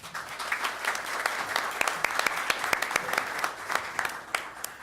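Audience applause welcoming a presenter from the Ohio School Board Association at a Northwest board of education meeting, a steady dense clatter of many hands lasting throughout, moderately distant and roomy.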